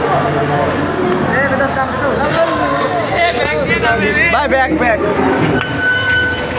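A passenger train pulling into Benapole station lets out a wavering, high metallic brake squeal amid rumbling carriage noise, while people talk loudly nearby.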